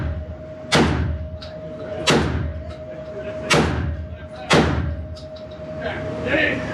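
A Panzer Arms M4 Benelli-clone semi-automatic shotgun fires four loud, close shots about a second and a half apart, each a sharp blast with a short ringing decay.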